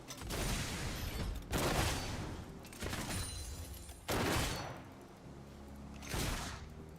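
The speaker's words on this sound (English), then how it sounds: "Guns blazing." Video game gunfire comes in four or five rapid, sustained bursts separated by short pauses, dense and forceful, with no talking over it.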